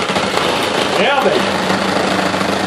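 A loud, steady electric machine whirs as it shreds cheese for homemade mac and cheese in a kitchen, running continuously with no breaks while a voice speaks briefly over it.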